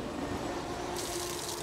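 Water runs steadily from an outdoor drinking water tap by the Bridge of Orchy Hotel on the West Highland Way, a soft continuous splashing flow with a brighter gush toward the end.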